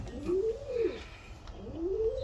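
Racing pigeons coo in a loft, two drawn-out rising and falling coos close by, separated by a short pause, with no talk.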